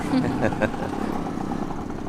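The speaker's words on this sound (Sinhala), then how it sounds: "අර මනුස්සයාගේ මෝටර් බයික් එකේ මොකක් හරි ආබාධයක් වගේනේ." A faulty motorcycle engine runs steadily nearby with an uneven, sputtering rumble, and a brief burst of louder revving near the start.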